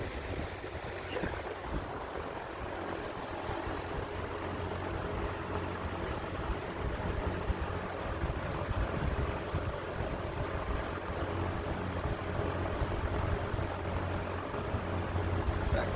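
A Markel 20-inch box fan runs at high speed, giving a steady, airy whoosh with a low hum throughout and an aging badge plate adding a faint rattle.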